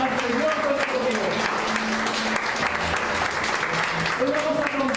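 A church congregation applauds loudly and continuously, dense clapping filling the room, with faint voices and a soft musical tone underneath.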